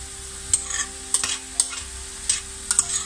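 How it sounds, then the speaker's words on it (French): Glazed vegetables with honey sizzle over high heat in a pan, with a steady frying hiss broken by repeated sharp scrapes of stirring, close up and with no talking. "vous les faites revenir à feu vif quelques minutes en remuant"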